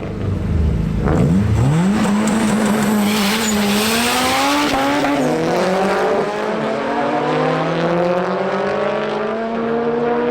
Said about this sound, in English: I've added a random car race in the video